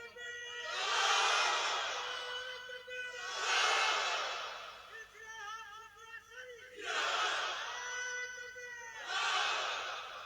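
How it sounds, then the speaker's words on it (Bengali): A large crowd at a religious sermon in Bhangar roars a takbir chant in four loud, sustained collective bursts, the massed voices rising and falling with short pauses between each shout. "তাকবীর মারো"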